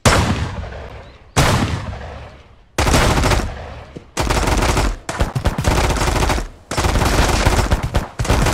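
Heavy gunfire in the Mist Survival video game: loud, close bursts of automatic fire in repeated volleys, each cut off abruptly with brief gaps, the later bursts dense and choppy.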